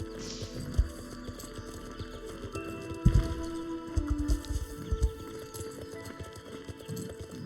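Horse hooves clip-clop on the ground in the Star Stable Online video game, irregular thuds near and fairly soft, over a steady background hum with faint game ambience.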